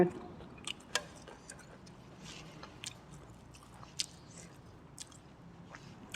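Close-up eating of khanom jeen rice noodles in thick homemade coconut tilapia curry, with long beans, cabbage and lemon basil: soft wet chewing and squishy bites with occasional sharper crunchy clicks, steady and near, with little else around.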